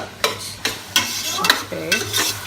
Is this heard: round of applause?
no